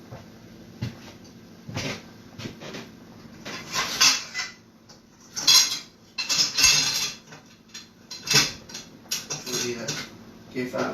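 Food stirred in a cooking pot while a roast salmon dinner is made, with scattered metallic scrapes and clatters coming in irregular bursts among voices.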